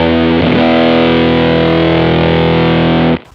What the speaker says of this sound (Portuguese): Tá aí o fuzz, uma cartada na manga.